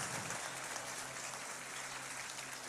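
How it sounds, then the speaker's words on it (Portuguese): A church congregation at a Cathedral Campus service applauds one another, steady distant clapping filling the whole stretch at fairly low level. "Eu queria que você desse um aplauso para essa pessoa que está do seu lado aí."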